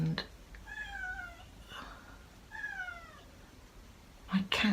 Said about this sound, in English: my cat's meowing at the door